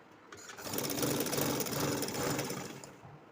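A sewing machine runs steadily while stitching kurti fabric, a continuous close motor whir with rapid needle rattle that rises, holds for a couple of seconds, then slows and stops.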